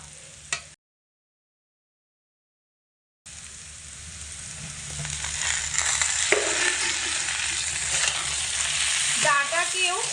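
Potatoes and boiled drumsticks being stirred in a hot pan, a loud, dense sizzle with scraping and clattering after a brief silent gap, close up, with no talking.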